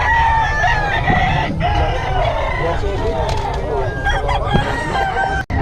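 Chickens clucking and a rooster crowing nearby at a chicken market in Bocaue, with people talking over a busy background of farm noise.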